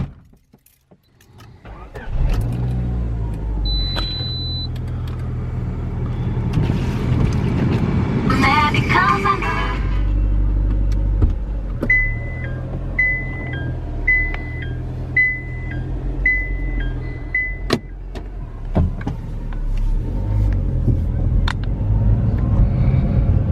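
Steady low engine rumble and road noise fill the cabin of a right-hand-drive car while driving, with brief jangling and rattles along the way and a short run of repeated electronic beeps partway through.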